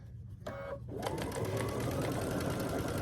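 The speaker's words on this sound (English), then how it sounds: "And keep stitching until I get to the point where I started stitching." A sewing machine stitches quilt binding, running steadily and close after a brief start, its rapid needle chatter continuous and fairly loud with no talking.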